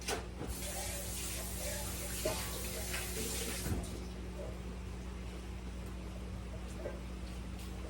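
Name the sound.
water running while rinsing a bowl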